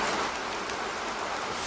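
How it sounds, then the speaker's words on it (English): Rain background sound plays from an iPad, a steady soft hiss of falling rain, faint and even throughout the short stretch with no voices. "you can listen to background sound like rain"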